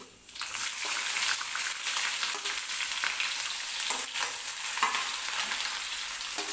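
Chopped onion goes into a pan with roasted peanuts for aloo poha and fries in a steady, close sizzle with a few light stirring scrapes, without speech.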